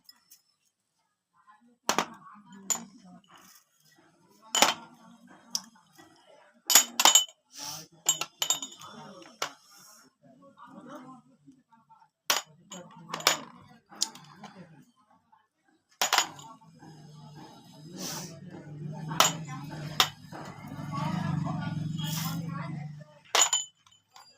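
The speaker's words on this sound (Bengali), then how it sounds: "এবার বন্ধুরা সব একসাথে মাখবো।" Fried flattened rice being mixed in a bowl with chanachur, soaked chickpeas, chopped carrot, coconut, chilli, onion and fried potato, giving scattered clinks and scrapes followed by a louder, sustained stretch of stirring near the end.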